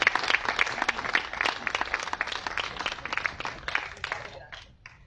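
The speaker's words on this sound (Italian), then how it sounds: "Un applauso, insomma," An audience applauds at an Italian event presenting a new author's first work, a lively crowd of distinct, fairly close hand claps that keeps a steady pace, then thins and fades out at the end.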